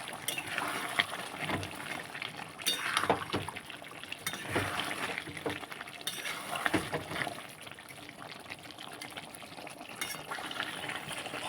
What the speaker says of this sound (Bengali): যে ভেজে রেখেছিলাম সেই আলুটা দিয়ে দেবো। দিয়ে ভালো করে নেড়ে দেবো।